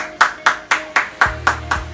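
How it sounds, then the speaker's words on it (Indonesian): Hands clap during a morning class session, about seven sharp claps in a quick, even rhythm, close and loud with no talking. "Tepuk tangan dulu dong untuk kita semua"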